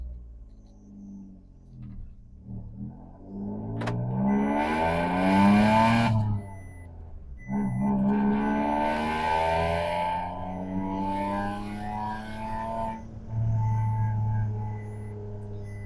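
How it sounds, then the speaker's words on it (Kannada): A car fitted with a Valvotronic exhaust runs up through the gears. Each gear brings a loud, rising engine note, with short dips at the shifts, and a deep exhaust rumble sits close throughout. "ಸೊ ಗಾಡಿ ಯಾವ ರೀತಿ ರನ್ನಿಂಗಲ್ಲಿ ಸೌಂಡ್ ಬರುತ್ತೆ ಅನ್ನೋದನ್ನ ನೋಡೋಣ ಬನ್ನಿ"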